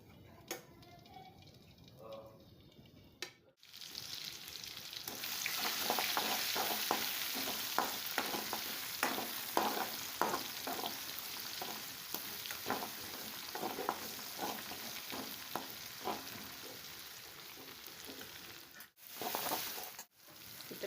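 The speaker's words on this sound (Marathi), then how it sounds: "तर आता आपल्याला फोडणी द्यायची आहे." Spices are tempered in hot oil in a home kitchen, then fried and stirred. A quiet sizzle runs steadily under repeated scraping stirs, and short gaps of near silence come near the start and end.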